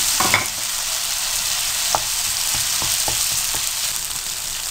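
Beef sizzling in a pan over a low to medium flame, a steady close hiss of frying broken by a few sharp scrapes and clicks of stirring, with no voices.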